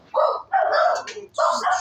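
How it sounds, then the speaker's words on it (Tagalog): A noisy household dog in Zaragoza, Nueva Ecija lets out three short, close barks in quick succession, with brief gaps between them. "maingay ang aso nila."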